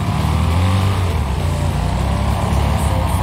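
Small lawn mower engine droning steadily in a Wreckfest lawn mower destruction derby, a continuous loud buzzing hum with a low rumble, no pauses, no voices.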